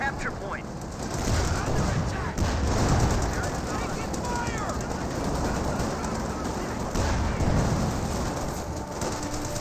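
Sherman tank high explosive rounds in Company of Heroes 2 battle, a dense continuous roar of gunfire and blasts under steady talk, with several heavier booms standing out.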